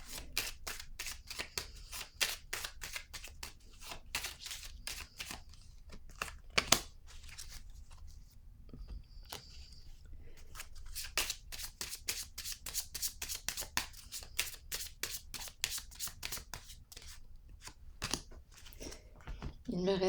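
Tarot cards shuffled and drawn by hand, a long run of crisp rapid riffling flicks and papery slides close up, broken by brief pauses and soft handling, under occasional low talk.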